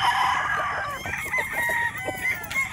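Young gamefowl stags crowing repeatedly at a game farm, several overlapping cock-a-doodle-doo calls from nearby birds with scattered clucks and no talking.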